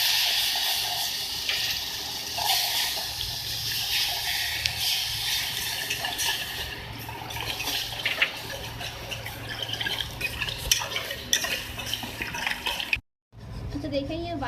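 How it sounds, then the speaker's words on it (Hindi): Milk poured into roasted flour in a pan to make white sauce for a chicken mayo and vegetable sandwich, a steady liquid pour and sizzle lasting most of the moment, with spoon stirring scrapes, then a brief cut. "अब मैं इसमें मिल्क ऐड करूंगी।"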